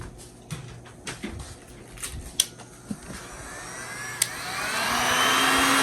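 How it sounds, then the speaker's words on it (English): A heat gun blows a steady, rising airy whoosh close by over a resin-coated table top, growing louder toward the end, with a few soft knocks and taps scattered through. "we could take the heat gun"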